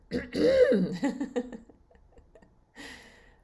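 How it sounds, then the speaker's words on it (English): A close, drawn-out throat clearing with a rough, gravelly rumble that tapers off, then a brief quieter sound after a pause. "I've been trying to clear my throat."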